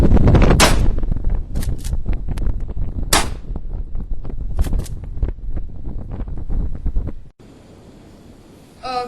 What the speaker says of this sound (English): So now we're going to show you how to fire it.